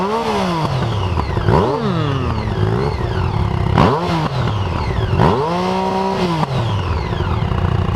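A BMW GS motorcycle engine starts after an ignition problem and revs repeatedly, several rising and falling throttle blips that sound loud and close.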